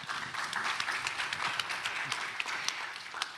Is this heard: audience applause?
yes